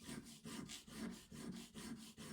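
A steel chisel sharpened by hand, a close, steady back-and-forth grinding rasp in an even rhythm of about five strokes, each a broad scratchy rub with brief gaps between.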